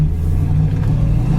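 A 1966 Ford Mustang fastback with a 289 two-barrel V8 and brand-new dual exhaust idles with a loud, deep, steady burbling rumble, close to the microphone, no voices.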